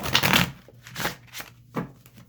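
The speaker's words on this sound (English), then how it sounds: "they shuffle like a dream because they don't stick" Vintage tarot cards being shuffled in several quick bursts, a longer riffle followed by shorter ones, close and clear with no talking.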